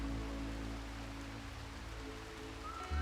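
Rain falling in the video game RimWorld, a steady, even hiss of drops on a surface, fairly faint, with a low hum beneath.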